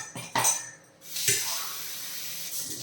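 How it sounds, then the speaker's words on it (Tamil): A cup of water is poured into pottukadalai tiffin sambar, with a few splashy bursts followed by a steady, moderate pouring rush close by. "இனி ஒரு கப் தண்ணி சேர்க்கலாம்"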